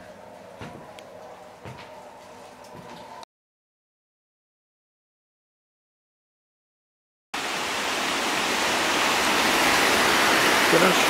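Loud, steady broadband rush of a large river or waterfall in Karelia, starting abruptly after a stretch of silence and filling the rest of the clip; a quieter outdoor stretch with faint knocks comes before it.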